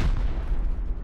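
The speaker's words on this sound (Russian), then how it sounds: "Это взрывы, как же классно" Muffled explosions rumble from a raid in the survival video game Rust, a short burst of low booms with crackling tails, fairly distant and moderately loud.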